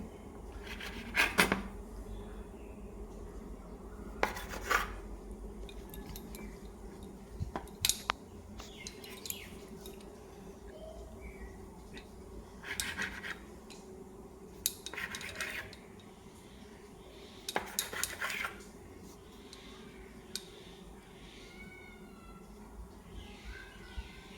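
A knife cuts through rolled flour dough for Bengali pal cake, scattered short scraping taps and clinks against a board or plate, close and fairly quiet, with pauses between cuts and no talk.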